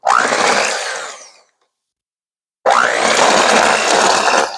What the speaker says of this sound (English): I'm actually going to just take my hand mixer and I'm doing it slowly so we don't splatter